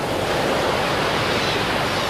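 Surf breaking steadily on the eroding boulder clay shoreline of the Holderness Coast, a loud, continuous wash of waves with some wind, close by and without any talk.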